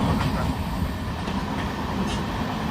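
A weekly superfast express from Kacheguda to Mangalore Central rumbles steadily along the rails near a Kerala beach, a continuous close, loud roar of wheels and carriage noise with no pauses.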